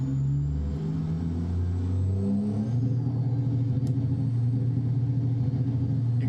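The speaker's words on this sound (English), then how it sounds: "You can see we have a rev limiter in this, which I'm assuming is from Z-Mod sound pack" Engine of a Peterbilt truck in American Truck Simulator holding steady high revs against the rev limiter, a loud, continuous droning rumble with a slight pitch shift early on.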